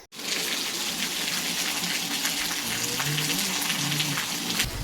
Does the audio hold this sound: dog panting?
no